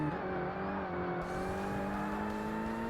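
Car engine in the racing game Forza Motorsport during a B class endurance race, a steady droning drone with sustained engine tones, heard close and continuous with no talking.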